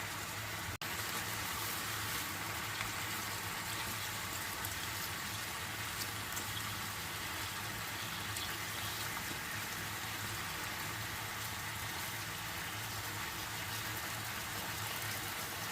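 Doner kebab meat marinated in onion juice fries over high heat, giving a steady, dense sizzling hiss that holds evenly from start to finish with no voices.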